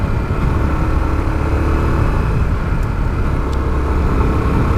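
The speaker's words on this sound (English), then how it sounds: "when you rev the bike up and then go back down to idle" A dual sport motorcycle engine revs up and settles back to idle, a steady, moderately loud engine drone with no speech.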